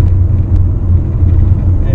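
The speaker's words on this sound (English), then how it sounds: "Now the engine drives the front wheels." A hybrid car cruising at 100 km/h with the engine driving the front wheels, heard as a loud, steady low rumble of engine and road noise inside the cabin, with no talk over it.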